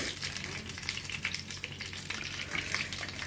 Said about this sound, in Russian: мы обжариваем баклажаны со всех сторон